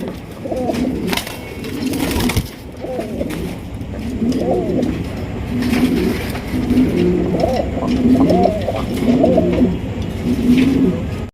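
Fancy pigeons at a pigeon sale coo in repeated low, throaty phrases, close by and steady, with faint background chatter and some distant traffic.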